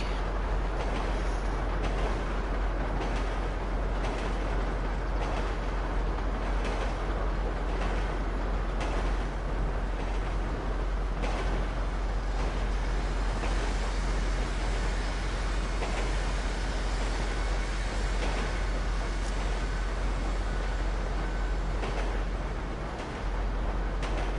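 A train called the Tom Dog Express runs along with a steady, loud rumbling roar and rattling that holds unbroken from start to finish, with no voices over it.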